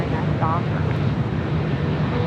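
A heavy airliner taking off from runway 25 right at Los Angeles International Airport, a loud, steady roar of jet engine noise throughout, with a voice faintly audible underneath.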